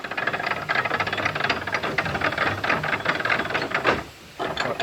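The ratchet on a canal lock's paddle gear clatters in a dense, rapid run of close metallic clicks as the paddles are wound shut, then pauses briefly before the clicking resumes.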